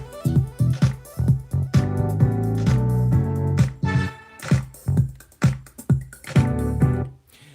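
Synth notes from FL Studio's 3xOsc play in short, punchy bursts with delay echoes and reverb tails, a rhythmic electronic pattern heard loud and alone.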